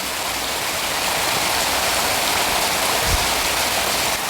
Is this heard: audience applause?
no